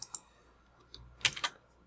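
Computer mouse clicks and keyboard input, a few sharp isolated clicks followed by a quick cluster of key taps, close and fairly quiet with no talk.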